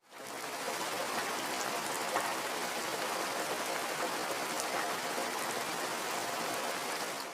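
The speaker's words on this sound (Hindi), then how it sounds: "फिर साथ ही बारिश शुरू हो गई।" Steady, dense rain pouring down in Petaro, Pakistan, a continuous hiss of drops hitting surfaces close by with no voices.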